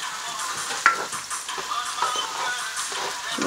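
Onions sauté in hot oil for curry chicken, giving a bright continuous sizzle with soft stirring scrapes and a brief clink near the start, close and fairly loud.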